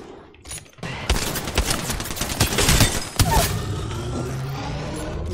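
Gunfire in the video game Apex Legends: dense, rapid bursts of shots and impacts filling most of the clip, loud and close, with a brief pause near the start and a calmer tail.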